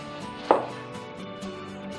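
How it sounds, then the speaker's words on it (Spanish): A kitchen knife cuts an onion into half rings with one sharp, close chop, followed by quieter soft cutting sounds. "el primer corte que vamos a aprender se llama ciselado, que es cortar medios aros"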